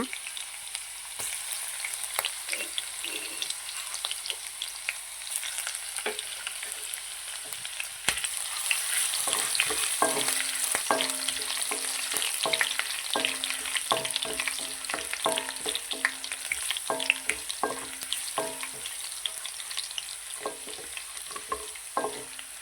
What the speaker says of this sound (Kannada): ಅದಕ್ಕೆ ನಾವು ಜಜ್ಜಿದ ಶುಂಠಿ ಮತ್ತು ಬೆಳ್ಳುಳ್ಳಿ ಹಾಕೋಣ. ಇವಾಗ ಅದನ್ನು ಚೆನ್ನಾಗಿ ಫ್ರೈ ಮಾಡೋಣ.